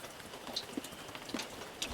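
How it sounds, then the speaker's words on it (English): Rain falling steadily at night on a farm, a soft continuous patter with a few sharper drops striking close by, steady and fairly quiet with no voices. "luckily it's still raining"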